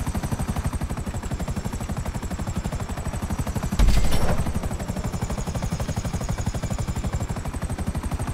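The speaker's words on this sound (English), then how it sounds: "Buzzard is an awesome little plane." A Buzzard helicopter in GTA 5 Online thrums with a fast, steady rotor chop that stays loud and close, broken by one heavier burst midway before the even beat resumes.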